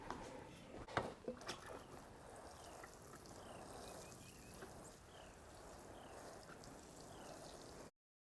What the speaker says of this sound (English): Okay, I'm going to water these in.